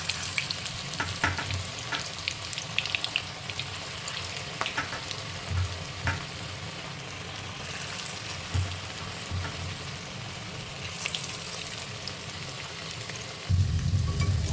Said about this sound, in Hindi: तेल हमारा गर्म हो गया है, अब हम इसमें पकौड़ा डालते जाएंगे।